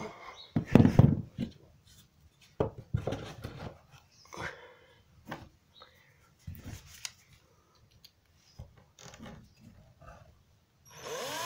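A screw is driven into wood while building a bug house, heard as bursts of power-driver whirring and creaking wood, stopping and starting in short close pulses with quiet gaps between.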